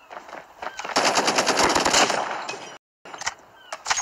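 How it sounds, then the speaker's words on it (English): Rapid automatic gunfire from a video game rattles loudly in a sustained burst, cuts off abruptly, then resumes with a few shorter shots. "Stop shooting bullets out of my gun."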